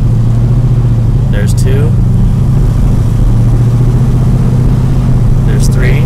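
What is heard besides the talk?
car engine accelerating through gears, turbo 350 transmission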